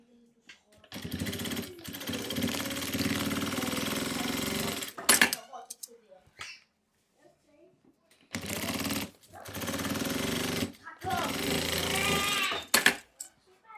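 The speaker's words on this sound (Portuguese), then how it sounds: "Eu vou fazer uma costurinha aqui e refilar esse excesso." Sewing machine stitching a notebook cover, running in two long bursts of steady mechanical whirring with brief sharp clicks and a pause between runs, close and fairly loud.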